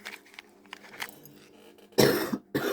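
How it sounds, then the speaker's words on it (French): A person with a lingering cough lets out two harsh, close coughs in quick succession after some soft background rustling. "j'ai vraiment du mal à me remettre de cette toux."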